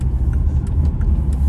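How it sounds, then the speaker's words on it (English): A 2013 Volvo XC60 D5 R-Design AWD with a five-cylinder diesel and Geartronic automatic gearbox runs steadily, giving a close, deep, even engine rumble with a few faint ticks and no talk. "Very nice sounding engine, actually, the 5-cylinder."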